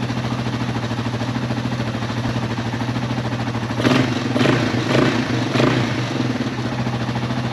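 A Yamaha XT225 dual sport motorcycle engine, being checked for an oil leak around the tensioner, idles with a steady, even mechanical clatter, close and continuous, with a few slightly louder pulses midway.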